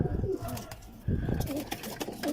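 Low, throaty cooing from a green pigeon in short rolling phrases, fairly close, with some background bustle.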